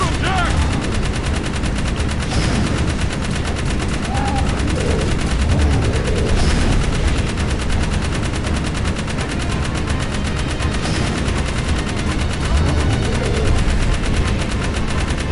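Dense, continuous gunfire from the Jak 3 video game as an enemy is shot, rapid bursts blending into a loud, steady barrage with no pauses throughout.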